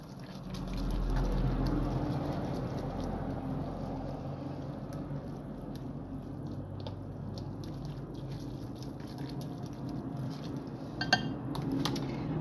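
Instant Volcano Chicken noodles are stirred in a bowl, with steady scraping and clinking of a utensil against the dish throughout, close and moderately loud, with no talking.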